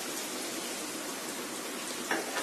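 Chopped ginger, garlic and onion fry in oil in a pan for a vegetable soup, giving a steady, dense sizzle that stays even and fairly close throughout, with a couple of small pops near the end.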